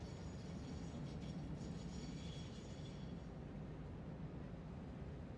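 Trains run along tracks in the video game Satisfactory, a faint, steady rolling rumble with a soft hiss and no voices.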